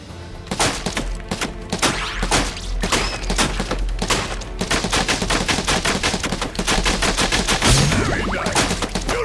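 Rapid gunfire bursts from a battle in the Final Fantasy VII Rebirth video game, dense and loud, with repeated sharp shots and thuds running continuously over a backing score.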